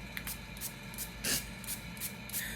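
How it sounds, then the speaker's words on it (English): LA Color extended-wear makeup setting spray mists onto a face in about eight quick pumped bursts of soft hiss, close and moderately loud, with one longer spray near the middle and no voices. "we're gonna take a little bit more of the LA Color setting spray"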